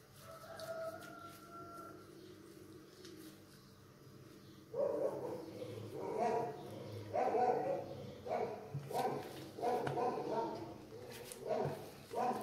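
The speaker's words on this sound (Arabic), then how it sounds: "سمعوا الكلب راه كينبح والفرج كيعوق" Dog barking in a Moroccan home kitchen while rghaif dough is being shaped, with a rooster crowing; repeated barks come in bursts from about five seconds on over a steady background, and a voice speaks early on.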